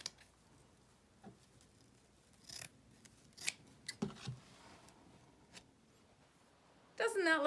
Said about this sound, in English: you finished cutting the strips.